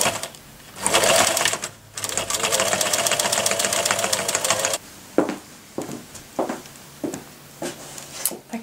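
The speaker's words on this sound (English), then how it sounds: "I'm going to sew up this seam on the machine" A sewing machine stitches a fabric hat seam: a long steady rapid needle chatter, then short stop-start bursts as the fabric is guided through.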